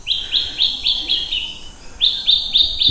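Birds chirp at an abandoned place. A quick series of bright, high tweets repeats in a steady rhythm, pauses, then returns, loud and fairly near, with no talk.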